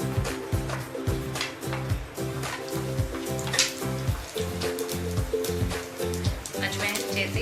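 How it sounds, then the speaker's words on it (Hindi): Carom seeds (ajwain) dropped into hot oil in a pan crackle and sizzle in a steady, close hiss of fine popping, with background music underneath. "अब इसमें हम अजवाइन डालेंगे।"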